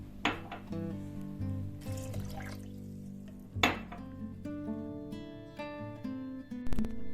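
Water is poured into a blender jar holding sliced lemon and sugar for lemon juice, with clinks of glass and a soft splashing pour, quiet and close in a kitchen.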